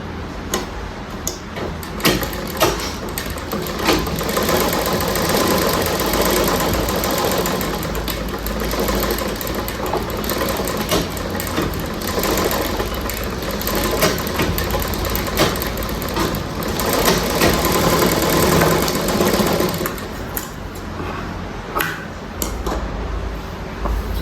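A sewing machine runs steadily while stitching piping onto a blouse hand, with a continuous motor whir and needle rattle that goes on for the whole stretch and has small stops and restarts.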